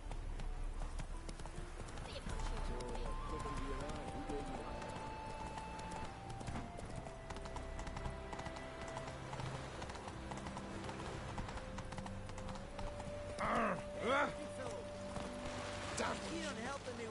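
Roach the horse gallops in The Witcher 3 video game, with steady, rapid clip-clop hoofbeats running throughout, a whinny near the end, and music and speech playing over them.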